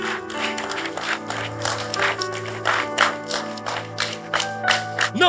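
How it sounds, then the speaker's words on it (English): Church congregation giving a round of applause, a moderately faint burst of many hands clapping in an uneven, steady patter that swells and fades slightly over several seconds. "Every man that is in this building, give ourselves a round of applause."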